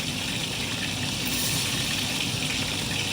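Water pours off from a cooking pot while Filipino ginataang langka is being prepared, making a steady, loud, unbroken gushing splash that runs the whole time with no speech.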